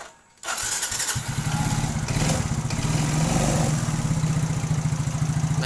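A Yamaha Mio scooter, just repaired for lost compression, cranks and fires after a brief silence, then settles into a steady close idle with a fast, even putter.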